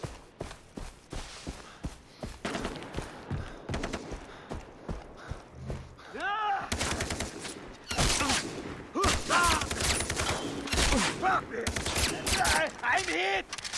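Gunfire in Far Cry 3, with bursts of shots and rapid fusillades mixed with footsteps and in-game action sounds, loud and busy, with voices calling out between the shots.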